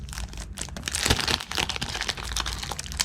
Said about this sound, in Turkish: Tamam bunu şimdi açacağım. Evet kamerayı tripoda sabitledim. Kutuyu açıyorum.